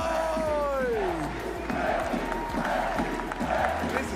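A live event crowd cheers and shouts a greeting in unison, a loud swell of many voices with a whistle-like rising tone at the start, then scattered clapping and yells continuing throughout.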